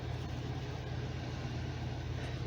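An MEP 831A generator engine idles with a steady, even low hum and rumble that holds constant and fairly close throughout, with no voices.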